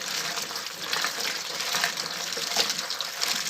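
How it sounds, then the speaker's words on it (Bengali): Taro greens are washed in a bucket of water, giving continuous close splashing and sloshing without pause. "আমি ভালো করে কিন্তু বালতিতে ধুয়ে নিচ্ছি তারপরে ঝুড়িটার মধ্যে ধুয়ে নেব"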